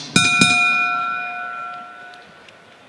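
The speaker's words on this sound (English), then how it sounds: "When the bell rings" A boxing ring bell at a professional fight night strikes twice in quick succession, loud and close, then its bright metallic tone rings on and slowly fades, alone with no voices.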